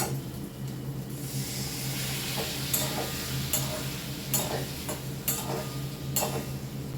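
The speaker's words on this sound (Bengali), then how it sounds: "আর একটু জল দিয়ে আবার একটু কষিয়ে নেব" Bengali vegetarian spice masala being sautéed again after a splash of water, a spoon scraping and stirring the pan with soft sizzling and sharp intermittent clicks, steady and close with no talking.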